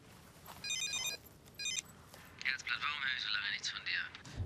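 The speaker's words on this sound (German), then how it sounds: "Dein Handy klingelt." A mobile phone rings in short electronic bursts, two clear rings in the first two seconds, followed by a louder burst of chatter and voices that fills the rest of the moment.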